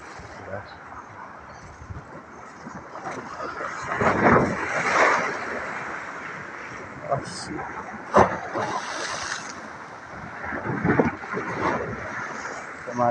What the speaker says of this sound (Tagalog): Lakas na naman ang alon.